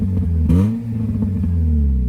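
A muffler-deleted Hyundai Veloster blips its exhaust once in a sharp rev, then drops back to a deep, burbling idle rumble heard up close.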